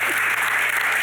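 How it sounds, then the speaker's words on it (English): Audience at a Human Rights Foundation talk claps in a steady, full round of applause, close and even, with no speech over it. "We'll give them another round of applause."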